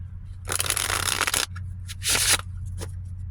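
Tarot cards being shuffled, two quick riffling bursts separated by a short pause, close and crisp over a steady low hum.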